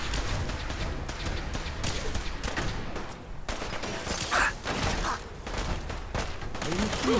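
Automatic gunfire from the video game Fallout 4 crackles in dense bursts, fairly loud and steady across the clip, blended with game noise and occasional sharp impacts.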